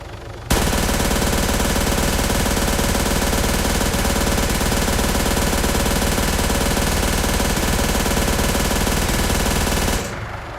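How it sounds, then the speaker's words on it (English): Weapon gunfire in the ArmA III video game: a loud, continuous rapid-fire machine gun burst rattles for about ten seconds without pause, then stops abruptly. "Let's fire off for a couple more rounds."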